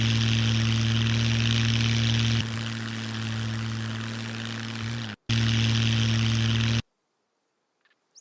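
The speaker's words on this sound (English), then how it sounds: "Of course, we've got the plane." Propeller plane engine in the video game Scum, a steady loud droning hum with a strong low tone that dips slightly, cuts briefly, resumes, then stops abruptly into near silence.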